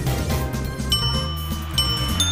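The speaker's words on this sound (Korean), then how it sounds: "아, 종소리 시끄러." Bells ring out repeatedly in the GetAmped video game, their bright tones chiming over a busy, loud layer of game sound.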